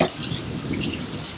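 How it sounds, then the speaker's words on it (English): Water pours into a cooking pot while ox tails are being prepared, a short, close, steady splashing stream with no talking over it. "Getting a little water in the pot."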